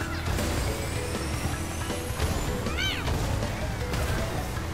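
A cat gives a single short, rising-and-falling meow partway through, half buried under constant loud background noise and clatter.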